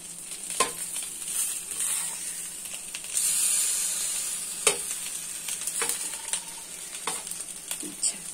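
Food sizzles steadily in oil in a covered pan on the stove, with a constant hiss and occasional sharper crackles and spatters, close and moderately loud with no talking.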